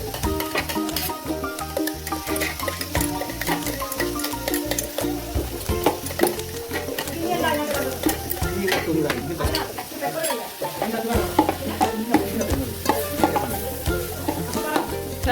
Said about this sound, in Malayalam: എല്ലാം കൂടെ ഇട്ട് ഇളക്കുക.